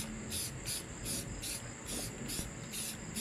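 Aerosol spray paint can laying a light tack coat on a custom tool tray for a gang box: steady hissing in short repeated passes about every half second, close and fairly even, with no talking.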